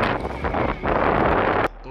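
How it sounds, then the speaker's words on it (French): Strong wind gusts roar over the microphone outdoors on a freezing December night at minus five degrees. The loud, continuous rushing noise stays steady and briefly drops away at the very end. "Vous entendez, le vent, il souffle fort."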